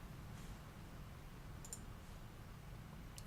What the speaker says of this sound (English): We're going to click on it.